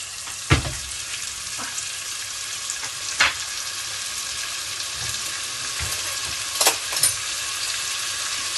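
Tomatoes and spice masala sizzle in a hot pan, a steady bright frying hiss. Occasional soft scrapes and stirring knocks sound over it.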